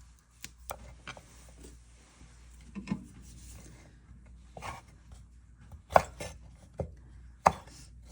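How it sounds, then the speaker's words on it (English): A knife slicing garlic cloves on a cutting board, with a series of irregular crisp taps and chops, a few louder strikes standing out, close and alone without talk. "I'm just going to run my knife through it really carefully, watching those fingertips"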